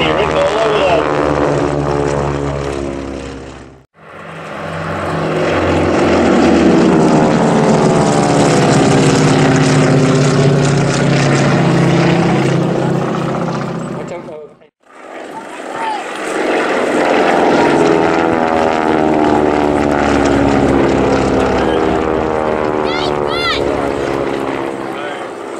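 Vintage Stearman biplanes and Spartan Executive monoplanes with Pratt & Whitney radial engines drone loudly and steadily overhead at an air show, the roar swelling in two long passes separated by brief dips.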